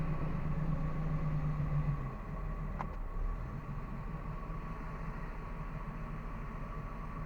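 A 1993 Maxum 1900SC boat's engine idles after a carburetor cleaning, a steady, even rumble with a faint hum and one brief click partway through.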